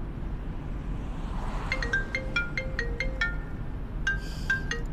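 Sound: phone ringing

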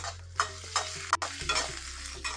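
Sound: sautéing green and dried chilies on low flame

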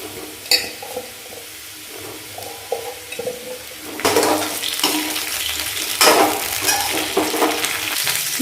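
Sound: vegetables frying and being stirred in pan

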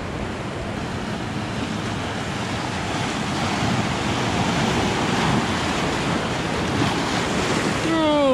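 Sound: ocean waves washing around rocks

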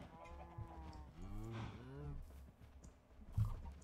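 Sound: cows mooing in video game Minecraft

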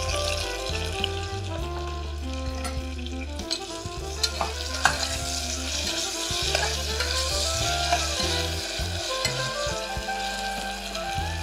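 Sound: frying slit green chillies in oil while stirring

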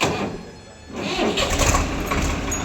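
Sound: Swaraj 855 tractor engine running

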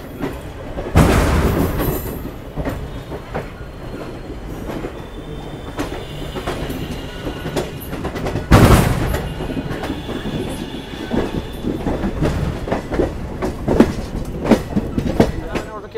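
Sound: Vibhuti Express passenger train running on the rails

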